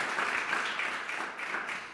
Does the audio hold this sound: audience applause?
yes